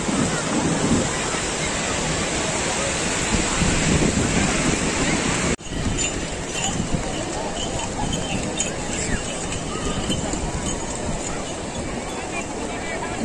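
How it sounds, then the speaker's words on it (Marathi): Ocean waves at Diveagar beach on the Konkan coast, a continuous loud wash of surf with wind noise, steady throughout with a brief dip midway. "दिवेआगारचा हा समुद्र किनारा एकदम ओके"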